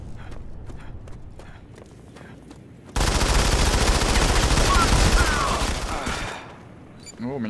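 Automatic gunfire in the mobile shooter Modern Combat 5: a loud, sustained burst of rapid shots erupts after a quieter stretch with soft talk and lasts about three seconds before cutting off.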